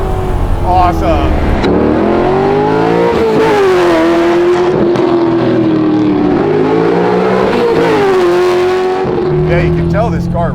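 A widebody C3 Corvette with an LS6 V8 revs hard and climbs in pitch, with a sustained roar and gear-like pitch sweeps, loud and close, and some talking mixed in.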